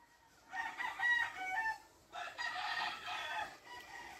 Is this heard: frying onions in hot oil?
no